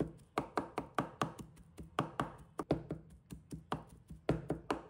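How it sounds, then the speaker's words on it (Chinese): A knife chops fermented black beans on a board in quick, steady knocks, over twenty crisp close strikes in an uneven rhythm with no voices. "因此我们要将豆豉剁碎"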